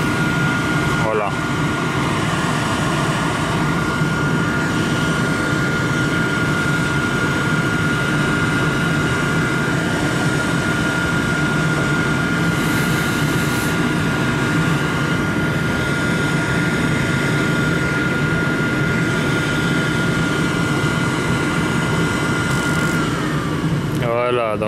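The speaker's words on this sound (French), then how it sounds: "le brûleur 1 s'arrête en premier mais le 2 il tourne toujours" A rooftop HVAC unit (FGK140S2M) with a gas burner, its burners faulting on flame, runs with a loud, steady roar and hum throughout, one burner still firing while the other has shut off.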